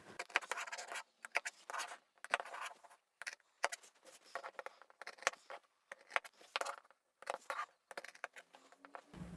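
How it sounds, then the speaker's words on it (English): Scissors cut out the corners of fabric pieces for a small zippered sewing pouch with boxed corners, giving quiet, close, repeated crisp snips and rustling scrapes in short bursts separated by brief pauses. "Let's cut out those corners."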